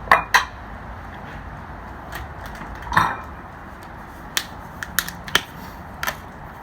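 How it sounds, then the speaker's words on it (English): A crab dip mixture with cheeses is scooped into a cast iron pan, giving scattered metallic scrapes and clinks of a utensil against the pan in irregular bursts over a quiet background. "So let's put that in the cast iron pan."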